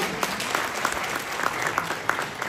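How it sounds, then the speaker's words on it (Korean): Audience applause for a policy planning officer at a provincial town-hall dialogue event in Jeju, a dense, steady clapping from a room of people lasting a few seconds, with no speech over it. "김남진 정책기획관님께 여러분 다시 한번 박수 부탁드리겠습니다"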